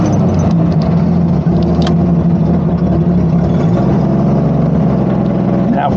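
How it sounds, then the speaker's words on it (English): A Jeep engine idles roughly with a faulty ECM, a loud, steady, close low rumble with slight unevenness running throughout, with no break. "for those of you that want to talk about how my Jeep is idling"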